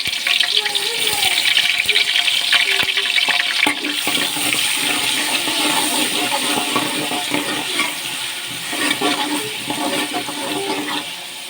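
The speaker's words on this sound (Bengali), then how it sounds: "এখন আমি দিয়ে দিচ্ছি পেঁয়াজ কুচিটা সাথে রসুন কুচিটাও দিয়ে দিলাম" Chopped onion and garlic hit a hot pan while duck curry is cooked, giving a steady broad sizzle with faint stirring clinks throughout, fairly close and continuous.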